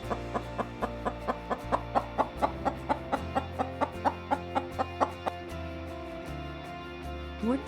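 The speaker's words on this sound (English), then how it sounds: "What does the chicken says?" A chicken clucks in a steady run of short, evenly spaced clucks for several seconds, fairly soft and close, over a quiet tonal background.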